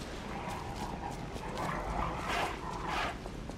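Dog barking in Lies of P, a video game, with several sharp yelps over a steady bed of game ambience and music at moderate level.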